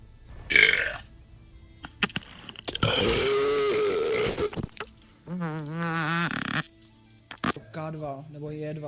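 Loud, drawn-out human burps, one long rumbling belch followed by a couple of shorter croaking ones, with bursts of talking and laughter in between.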